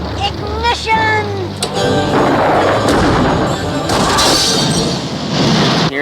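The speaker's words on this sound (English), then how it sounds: "Here's a fireworks display we saw." Loud booms and crackling bursts of fireworks in a 1989 Garfield and Friends cartoon go off in quick succession, with whistling rises early on and a dense, noisy crackle throughout.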